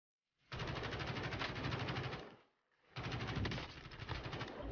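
Gunfire in the video game Warzone: two long, loud, close bursts of rapid automatic fire split by a brief pause, with no talking.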